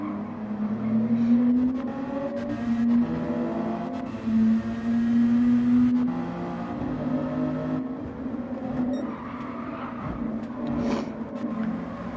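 A race car engine in a racing video game holds a steady whining tone that shifts pitch with gear changes and throttle, a second car's engine faintly audible nearby.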